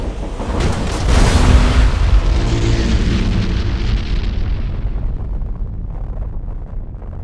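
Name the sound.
enemy flagship exploding in video game Battlefleet Gothic Armada 2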